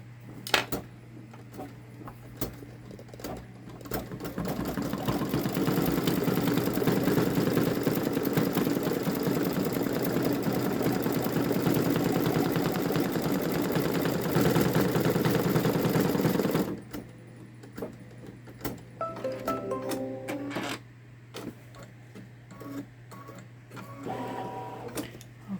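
A Babylock Solaris Vision embroidery machine stitches a summer garden gnome design, a long steady rapid mechanical chatter running close and loud, then stopping, followed by softer clicks and handling noises.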